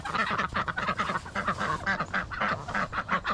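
Ducks and geese quacking and honking continuously in a dense, overlapping chorus close by, during a morning walk around feeding time.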